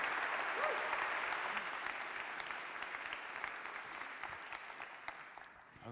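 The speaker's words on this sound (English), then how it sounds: "Big round of applause, please, for Tammy Everts." Sustained audience applause at the performance.now() 2023 web performance conference, honoring speaker Tammy Everts; a steady wash of many hands clapping that holds for the whole stretch and tapers slightly toward the end.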